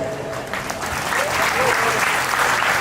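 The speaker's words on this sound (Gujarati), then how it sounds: "તમે જેટલી તાળી વગાડો એટલી ઓછી છે આ ગ્રુપમાં" Audience applause for a bhajan music group at a birthday celebration gathering, a steady continuous wash of many hands clapping with faint background voices.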